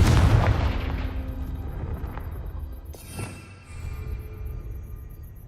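A Confringo blasting curse explodes in the game Hogwarts Legacy, a deep booming burst that decays into rumble, followed by a second sharper crack and lingering roar, loud and close.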